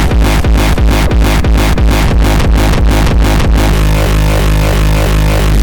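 A bass generator synthesizer pounds out loud, rapid repeated low thumps in a steady rhythm, then shifts into a sustained droning buzz with layered harsh tones.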